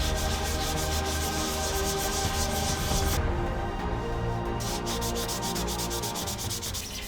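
Repetitive sanding of a 3D-printed filament art toy, a steady close-up rubbing and scraping that runs continuously with back-and-forth strokes and a brief smoother stretch midway.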